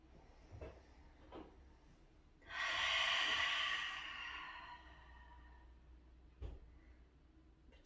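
During a slow yoga stretch, one long audible exhale rises through the middle of a quiet room, soft breathy and close, with a couple of faint bumps and shifting sounds around it.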